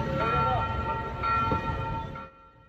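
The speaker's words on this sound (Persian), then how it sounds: "این ناقوس کلیسا کمی بعد از این حمله که مردم را از این واقعه خبردار کرد" A church bell in Nice, France rings with a ringing metallic tone after a knife attack, amid busy background noise and some voices, then fades abruptly near the end.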